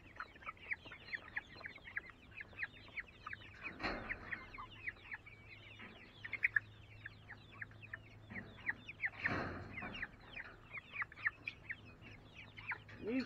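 Chickens clucking inside a coop, a busy run of short clucks and chatter at close range with a few louder squawks, no talk over it.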